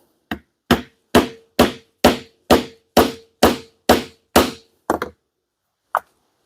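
Leather maul pounding a tool through leather for a custom axe mask: about ten sharp, evenly spaced strikes, loud and close, followed by a pause and one last lighter knock.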